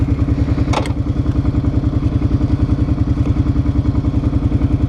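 Kawasaki Brute Force 650 ATV idling loudly up close at an off-road park, a steady pulsing engine throb with one brief sharp clatter early on.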